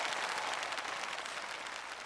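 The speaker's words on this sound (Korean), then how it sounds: "다시 한번 큰 박수 부탁드리도록 하겠습니다." Audience applause at a taping of the KBS National Singing Contest, a brief, dense burst of clapping heard at a moderate distance that tapers slightly.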